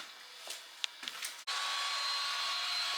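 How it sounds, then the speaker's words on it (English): An electric polisher fitted with a 4000-grit pad works over blue Venetian plaster on a staircase. After a few scraping strokes it settles into a steady, loud, high-pitched whir that runs on without a break. "So I've got my polisher on with a 4000 pad"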